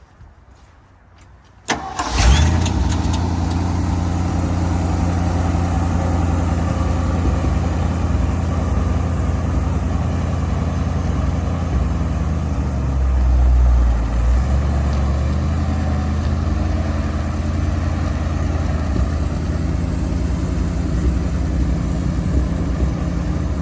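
An old Ford F700 truck, back on the road for the first time in decades, starts up and then rumbles steadily as it drives, with a loud, continuous low engine drone and no talk.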